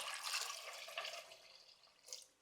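Water pours steadily into a pot of chickpeas, a continuous close splashing rush that eases off, then swells briefly again before stopping.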